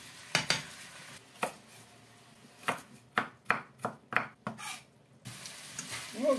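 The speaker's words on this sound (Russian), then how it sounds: "Пусть дальше себе обжаривается." Beef and onions for a canteen-style goulash fry quietly in a pan, a faint sizzle punctuated by a series of distinct utensil knocks and scrapes as the pieces are stirred and pushed aside.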